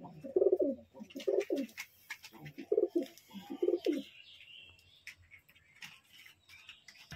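Pigeons in a loft of rare collected birds coo in several rounded, repeated phrases, close and clear, then softer chirps and rustling follow.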